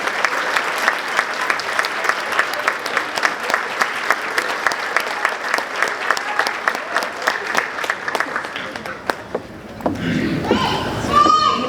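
An audience at a senior night gives a round of applause, dense and steady for about nine seconds, then thins out and gives way to crowd chatter.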